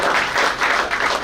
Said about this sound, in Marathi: आपण सगळ्यांनी टाळ्या वाजवायचा